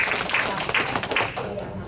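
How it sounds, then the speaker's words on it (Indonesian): A short burst of applause from a small crowd, scattered claps blending into a brief rattle, with faint voices underneath. "beri tepuk tangan dulu"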